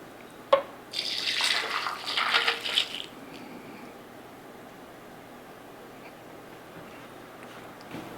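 Cooking stock being poured through a strainer makes a brief, splashy burst of liquid after a sharp clink, lasting about two seconds, then fading to quiet room tone.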